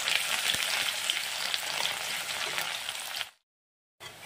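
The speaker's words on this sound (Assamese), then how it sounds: "পিঁয়াজটো অলপ ভাজি ল'ম।" Onion frying in mustard oil in a kadai, a dense, even sizzle close by that cuts off abruptly, leaving a brief silence before the sizzling resumes.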